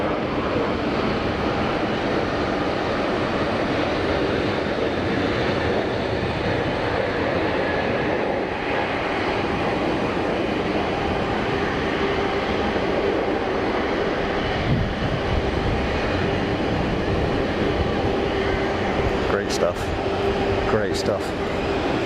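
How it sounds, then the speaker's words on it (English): An Airbus A321neo rolls for takeoff at Geneva Airport, a continuous broad jet roar heard from a distance under steady talk, with faint clicks near the end. "And on the roll, a 321 Neo"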